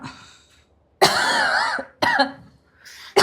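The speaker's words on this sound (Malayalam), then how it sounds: "ഒന്ന് ചുമയ്ക്കുന്നു" A person coughs in three harsh bursts separated by short pauses, close and loud.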